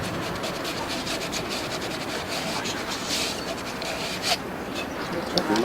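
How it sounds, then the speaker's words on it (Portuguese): Pipe ends being sanded by hand on a building site, a steady scratchy rubbing that continues without break, close and fairly loud. "Depois você vai lixar as pontas dos tubos e as bolsas das conexões."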